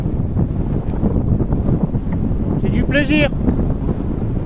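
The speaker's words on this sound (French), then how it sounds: "Il y a du vent." Steady wind buffeting the microphone in a low, constant rumble on a mountain bike tour between Perpignan and Cerbère, with a person speaking briefly over it.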